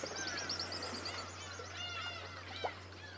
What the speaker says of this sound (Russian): Это очковый чистик, дальний родственник чаек.